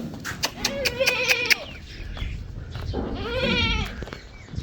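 Goats bleat several times nearby, with wavering quavering calls in two bursts over a background of rustling and shuffling.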